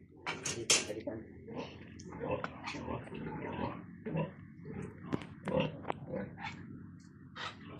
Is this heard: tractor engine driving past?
no